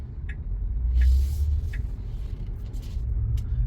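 A car pulls away on a driving test route in Gregory Hills, Sydney, giving a low engine rumble that swells briefly then settles, with faint ticks and clicks over the top and no talk.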